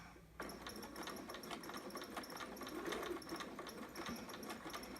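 Sewing machine stitching fabric for a two-piece sitter garment, a rapid rhythmic mechanical clatter that starts abruptly and runs steadily at close range, fairly quiet, with no talking.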